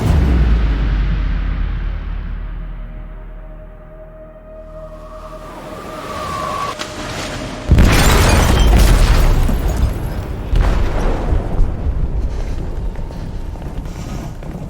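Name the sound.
explosion in ship hold, video game Detroit: Become Human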